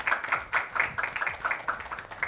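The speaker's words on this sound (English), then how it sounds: "let's all clap for Bob" An audience claps for a contestant at a show, a short burst of steady, moderately loud clapping without talk.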